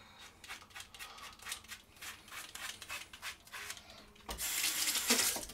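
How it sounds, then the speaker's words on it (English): A Schick Xtreme bamboo razor shaves skin in a series of quiet, short scraping strokes, followed near the end by a louder rush of running water. "This one's just shaving like butter."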